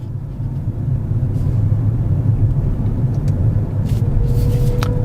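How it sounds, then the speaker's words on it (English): Tyres of a Vauxhall Corsa E roll over smooth fresh tarmac, a low steady road rumble with a soft whooshing hiss, continuous and fairly quiet. "have a listen, if you're wearing headphones, to the sound of the tyres"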